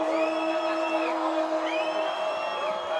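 A high school football crowd at a Marin Catholic versus El Cerrito game, loud and sustained with shrill whoops and yells rising in waves over a continuous roar of cheering.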